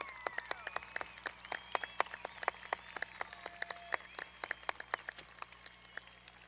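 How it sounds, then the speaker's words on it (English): Scattered applause from a graduation crowd at Rio Rancho High School, a patchy run of individual claps at moderate distance with a faint low hum underneath, no one speaking over it. "will you applaud them for me right now?"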